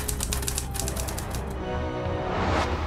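Rapid mechanical typewriter keystrokes clatter during a typing exam, a steady run of sharp clicks close by with no talk.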